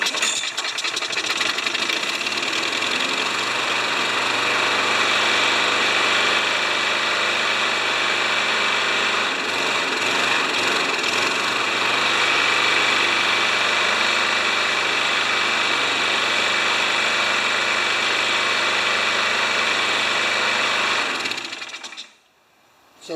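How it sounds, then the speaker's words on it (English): Craftsman lawn mower engine running steadily on a workbench, a loud continuous mechanical drone with rattling, holding constant for about twenty seconds before cutting off abruptly at the end. "Yes, I'm starting it on the bench."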